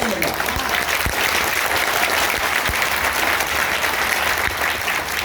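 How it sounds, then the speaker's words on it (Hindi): Loud, dense audience clapping fills a Hindi poetry recital, a sustained wall of applause from a large crowd, steady and even throughout with no pause. "खुल के तालियां बजाओ।"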